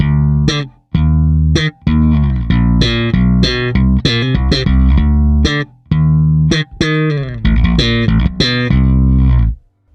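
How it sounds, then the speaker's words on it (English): Slap bass runs through a Darkglass Anagram FET compressor set to a 4:1 ratio with full blend, giving loud, evenly compressed thumb slaps, plucks and ghost notes in a fast, choppy rhythm with brief gaps. "I'm using the FET compressor to even out the slap playing between the thumbs, the plucks, the ghost notes, and so on."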